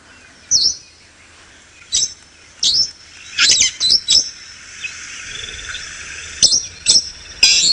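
Brown-headed parrot calling during a sunrise safari drive, giving repeated shrill, high-pitched shrieks in short bursts over a steady outdoor hiss, fairly close and loud, with no voices.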